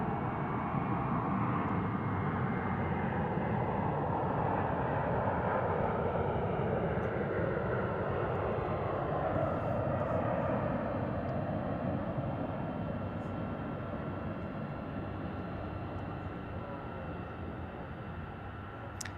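An Airbus A321 departing DFW airport gives off a broad, steady jet roar that holds loud and then slowly fades as it climbs away, with no talk.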